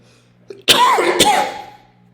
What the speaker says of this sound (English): a momentary coughing fit